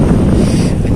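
Strong wind at sea buffets the microphone with a loud, low rumbling roar, steady and gusting throughout near a fishing spot on the water.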